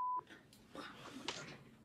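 A phone plays a short telephone dial tone near the start, followed by fainter tonal blips, all at a modest level.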